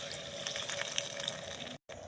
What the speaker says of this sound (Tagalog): ilagyan natin ng konting tubig para pakuluan.